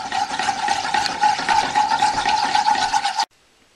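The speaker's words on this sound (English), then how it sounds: "just give that a good whisk" Whisk beating curry sauce powder into water in a pot for a vegan homemade curry sauce, a busy, continuous close scraping swish with a thin ringing edge that stops abruptly.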